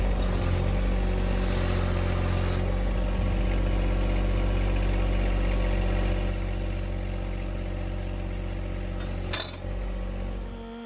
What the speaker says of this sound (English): I'm just going to use the backhoe to pivot the tractor over a little bit.